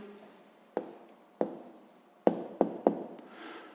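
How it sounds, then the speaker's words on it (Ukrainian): Pen or chalk strokes write a math answer for a sixth-grade exercise: five sharp, close taps and scratches spaced irregularly over a few seconds, alone in a quiet room. "записуємо відповідь"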